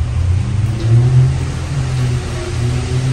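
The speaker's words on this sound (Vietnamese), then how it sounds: "ô tô đi đây" A car passes along a road in light rain, its engine a steady mid-pitched drone with a faint swell, close and loud against a soft wash of rain, with no talking.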